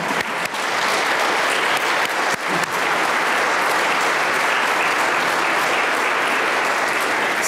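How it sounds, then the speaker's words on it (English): Sustained applause from the audience at a memorial service, a dense even wash of clapping running throughout at full strength, with a couple of brief dips early on and no talking. "And if you're at home watching this, you can stand up and we'll applaud you now."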